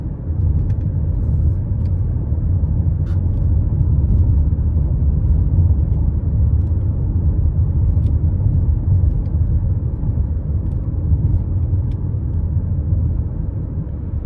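A 2024 Nissan Rogue SV with a 1.5-liter turbo three-cylinder cruises on the interstate, heard from the cabin as a steady, loud low rumble of road and engine noise that stays even throughout, with a few faint ticks.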